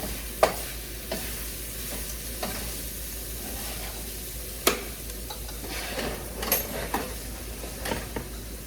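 Cheesesteak casserole filling sizzles softly in a pan while a utensil stirs it, with scattered scrapes and clinks against the pan over a quiet, steady fry.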